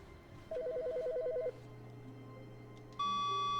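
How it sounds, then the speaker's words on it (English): A telephone rings in the video game The Stanley Parable, a short electronic trill repeating quickly for about a second, followed by a steady tone and then a sharper beep, all fairly faint over a low hum. "Oh, the phone."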